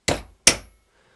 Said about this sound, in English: Yep, that broke pretty easily with the small hammer.